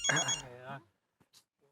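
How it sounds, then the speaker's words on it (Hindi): A phone ringtone plays briefly with a voice over it, then cuts off, leaving a few faint clicks and rustles. "वो मेरा फोन आया"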